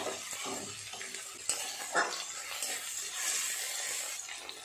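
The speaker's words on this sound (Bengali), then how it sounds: "খুব ভালো করে টমেটো আমার পেঁয়াজ আর একটু নেড়ে চেড়ে নরম করে নেব" Onions and chopped tomatoes stirred in a frying pan, giving a steady soft sizzle with scraping and clinks of a utensil against the pan, close and continuous with no talk.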